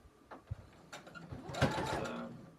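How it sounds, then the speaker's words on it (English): A Brother CE 1008 sewing machine stitches a beach tote in a short, uneven burst, with soft taps at first and then a fuller whir that builds and fades, fairly quiet. "This brother CE 1008 has been an amazing machine."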